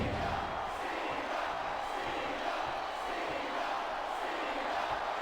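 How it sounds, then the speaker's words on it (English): A WWE arena crowd in the video game WWE SmackDown vs Raw 2008 roars and cheers as a steady wash of distant, even crowd noise throughout. "these WWE fans are fired up"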